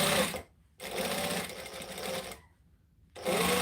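A sewing machine runs in steady close bursts, stitching a quilt mini with a short joining stitch length, stopping briefly twice between runs, with no talking.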